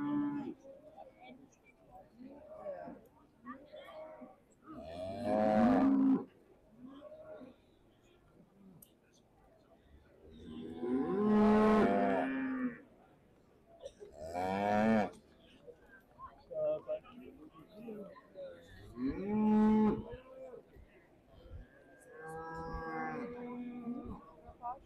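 Beef Shorthorn cattle, including a cow born in 2021, low in the judging ring at the Royal Highland Show. Several long, loud moos come at intervals between quieter stretches, and a voice talks in the background.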